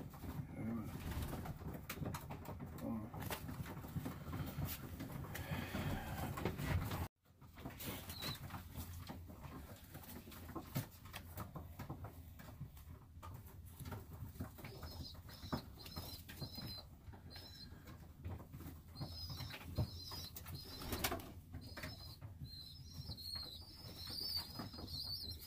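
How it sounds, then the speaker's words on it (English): Pet pigeons or doves kept in a coop, some of them molting, give soft repeated coos and occasional bursts of flapping wings over a quiet background, with faint voices now and then. "Beautiful birds, beautiful birds, beautiful."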